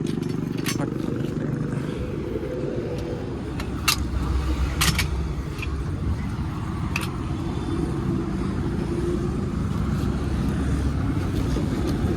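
An auto rickshaw engine idles with a steady low rumble while instruments and stands are loaded; scattered clicks and knocks of handling cut through, with some faint talk in the background.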